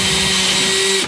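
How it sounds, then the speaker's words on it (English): A power drill fitted with a step bit whirs loudly and steadily close by while cleaning up holes in a Harley Benton guitar body, then winds down abruptly at the end. "I'm going to use this step bit, and I'm just going to put it in my drill"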